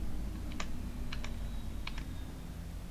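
A few keys are pressed on a computer keyboard, giving five sharp, quiet clicks in two small clusters over a low steady hum.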